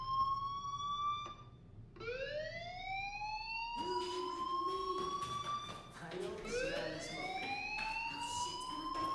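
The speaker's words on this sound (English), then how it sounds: "do you hear that fire alarm?" In the video game Life is Strange, a fire alarm sounds in repeated rising electronic whoops, each sweep climbing sharply, heard over and under talking voices.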